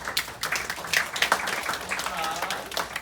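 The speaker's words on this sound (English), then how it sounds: "give yourselves a round of applause today" Workshop audience claps together in a moderate, fairly distant round of applause that stays steady throughout, with some talk mixed in underneath.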